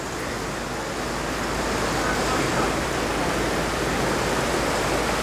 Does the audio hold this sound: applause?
no